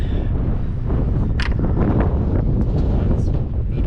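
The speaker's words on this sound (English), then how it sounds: "It is windy, but it's supposed to be mid-70s." Wind blows hard at a lake shore while magnet fishing, a loud constant rumbling buffet across the microphone that masks most other sound.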